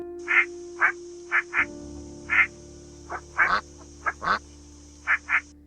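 A duck gives a series of short nasal quacks, about a dozen in an irregular rhythm, moderately close over a low steady hum, with no voices.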